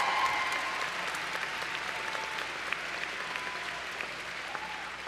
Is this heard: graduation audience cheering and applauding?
yes